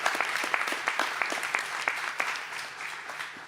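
An audience at a government event with Governor Newsom in Fresno claps steadily, a dense patter of hands lasting a few seconds at moderate volume and slowly tapering.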